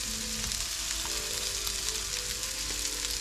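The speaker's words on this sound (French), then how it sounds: "Vous voyez, les crevettes commencent à dorer avec de l'ail." Shrimp sauté with garlic in a pan, producing a steady, close sizzle that continues without a break and has a few faint stirring sounds.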